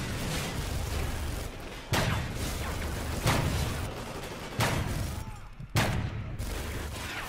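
Sniper rifle fire in the video game Call of Duty Ghosts: several sharp, loud shots spaced a second or so apart, each with a booming tail, over continuous dense battle noise.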